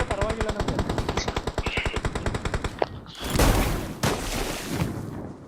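Rapid machine-gun fire in a shooter video game, a steady rhythmic burst of evenly spaced shots for nearly three seconds, then a sharp heavy sniper-like crack and rumbling louder shots, close and loud.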